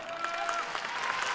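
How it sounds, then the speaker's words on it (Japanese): In an arena during the final round of a welterweight kickboxing bout, the crowd gives a brief burst of steady applause while a voice talks faintly over it. "会場から拍手が送られます。"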